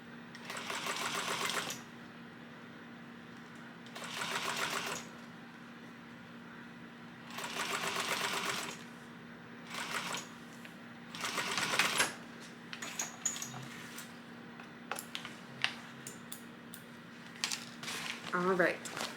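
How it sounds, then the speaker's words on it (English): A sewing machine top stitches a seam at an eighth-inch allowance, running in several steady bursts of whirring separated by pauses, close and clear, with light clicks and handling noises toward the end. "And now we're going to top stitch. All the way down at the 1/8 of an inch seam allowance."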